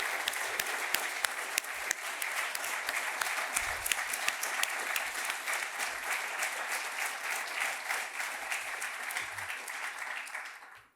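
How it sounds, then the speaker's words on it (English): Steady, dense audience applause at an awards ceremony for award recipients and a moderator, sustained evenly for several seconds before fading out at the end. "Can I get one more round of applause for our award recipients and our moderator"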